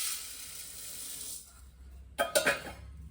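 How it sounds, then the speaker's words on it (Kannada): About 5 grams of cumin seeds sizzling in a hot pan for wedding-style sambar powder: a steady, bright hiss that fades after a second or so, followed by a few close metallic clinks of utensils. "ಇದು ಅಷ್ಟೇ ಫಾಸ್ಟಾಗಿ ಫ್ರೈ ಆಗುತ್ತೆ"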